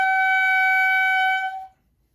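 A single shrill, high-pitched squeal from a clarinet mouthpiece and reed, held steadily for over a second before cutting off.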